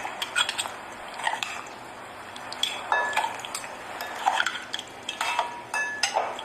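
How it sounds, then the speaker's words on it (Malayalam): Raw prawns mixed with salt in a bowl for prawn biryani, with close repeated clinks and scrapes of a spoon and wet squelching stirring in an uneven rhythm. "പിന്നെ നല്ലപോലെ മിക്സാക്കി നന്നായിട്ടൊന്ന് മിക്സ് ആക്കട്ടെ"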